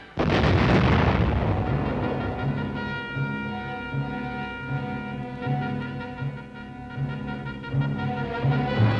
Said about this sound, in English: Mile after mile, the air ripped with explosion.